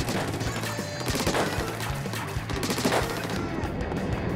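A weapon fired at targets on the Splatoon 3 shooting range: rapid, steady bursts of shots close up and fairly loud, with a brief lull near the end.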